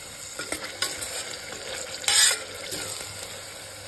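Mushroom biryani masala fries in oil, with steady close sizzling, stirring scrapes and a louder burst of spatter midway; nobody speaks.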